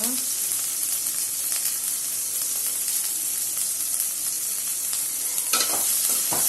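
Curry leaves and coriander sautéing with potato fry in a pan, a continuous close sizzle broken by occasional stirring scrapes, no talk over it.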